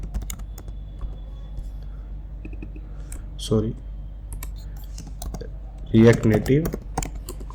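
Keys clatter on a computer keyboard in two quick bursts of typing, the second longer and louder, with a person speaking quietly between them in a quiet room.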